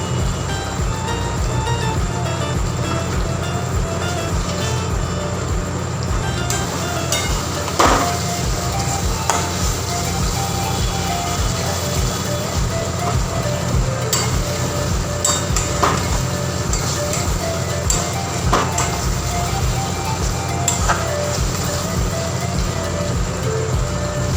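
Chicken pieces go into oily spices frying in a pan, a steady sizzle with scattered metallic clinks and scrapes of utensils against the pan, continuous and close.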